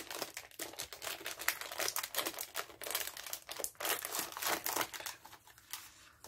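Crinkly plastic packaging around small 4 cm deep gift boxes is pulled open, giving a close run of irregular crackling and rustling bursts with no talk.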